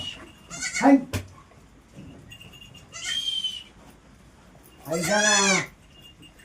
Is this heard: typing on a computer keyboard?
no